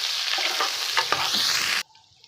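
Chopped onions sizzling in hot oil in a pan while being stirred, a loud continuous frying hiss with scraping stirs, cut off abruptly near the end.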